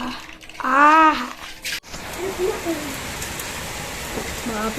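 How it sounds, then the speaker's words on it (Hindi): Heavy rain pouring at night during a power cut, a steady dense hiss after a brief voice at the start. "अभी बहुत तेज बारिश हो रही है, बहुत ज़्यादा"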